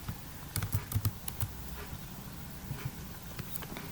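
A formula is typed into an Excel spreadsheet on a computer keyboard: quick, quiet clusters of key clicks in short bursts, with a few isolated taps toward the end and no talking.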